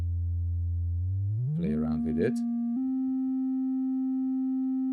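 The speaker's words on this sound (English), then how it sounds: "So the sine wave sounds like this." A sine wave oscillator in VCV Rack sweeps upward from a low pitch to a steady pure tone, held alone after a brief spoken remark in the middle.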